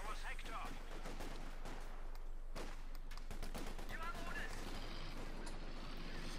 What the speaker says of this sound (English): A few shots fired.